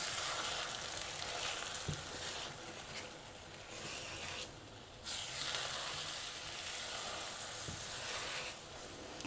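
Eggs sizzle in a frying pan for a quick Mexican breakfast burrito, a steady close frying hiss broken by occasional soft scrapes and stirring knocks as they are slowly mixed around.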